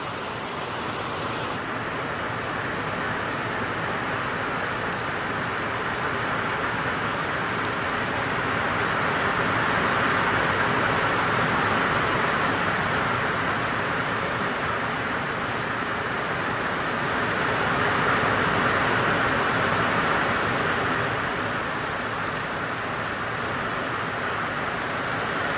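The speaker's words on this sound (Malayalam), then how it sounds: "കൊടും മഴയാണ് ഗായ്സ്," Torrential monsoon downpour roars as a steady, loud wash of broadband noise, swelling slightly in intensity at moments but otherwise unbroken, with no voices or other distinct sounds.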